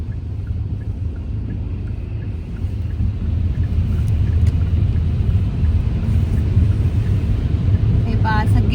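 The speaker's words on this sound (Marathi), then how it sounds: "रस्ता भरलेला आहे पाण्याने आणि सगळ्यांच्या गाड्या त्यातून जात आहेत" Cars drive through a rain-flooded road in Saudi Arabia after heavy rain, making a steady, fairly loud low rumble and watery swish that thickens a little after the first few seconds.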